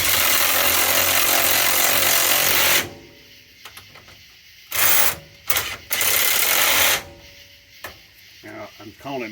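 A small impact wrench drives brake caliper bolts on a Mopar, starting with a long loud buzzing whir and followed by several shorter bursts with quieter gaps between them. Nobody speaks.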